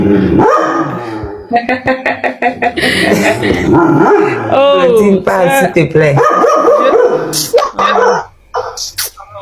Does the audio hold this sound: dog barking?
yes